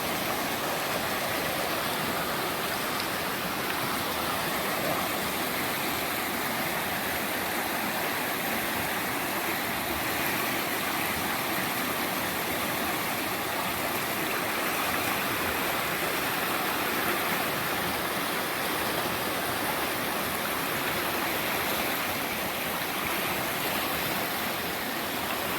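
The Quinapoxet River flows with a steady, broad rushing wash of water that stays even and unbroken throughout, heard close by with no voices.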